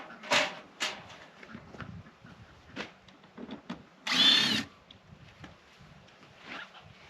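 A power drill backs screws out of a mobile duck house being taken apart, with a few short whirring bursts separated by handling clatter, one longer burst standing out near the middle.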